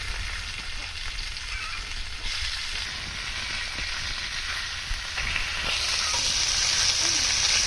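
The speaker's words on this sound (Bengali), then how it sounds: "এখন মাছটা ভাজার জন্য চুলায় ফ্রাই প্যান দিলাম।" Tilapia fish fries in oil in a frying pan, giving a steady, close, dense sizzling hiss that runs unbroken throughout and grows slightly louder near the end.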